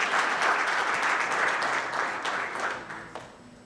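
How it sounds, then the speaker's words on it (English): An audience at a food systems pitch competition applauds the entrepreneurs, a dense burst of many hands clapping that gradually thins and fades toward the end. "A big round of applause to each and every entrepreneur that pitched through."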